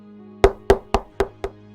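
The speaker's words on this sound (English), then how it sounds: "until the day the knocks began." Five firm knocks on a door, evenly spaced and close, each a sharp thud that decays quickly over a steady low hum.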